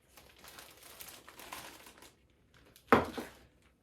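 Soft plastic bag crinkling as flour is put in for a couple of seconds, then a sharper, louder rustle of the bag near the end.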